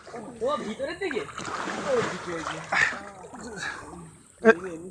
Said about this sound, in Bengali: উল্টো সাঁতার কাটা হবে, এটা রেস হবে এখন উল্টো দিয়ে